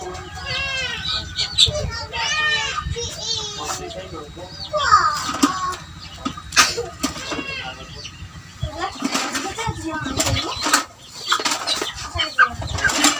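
Gamecock roosters make close, sharp clucks and calls, with brief bursts of wing flapping, while people talk nearby and children can be heard in the background.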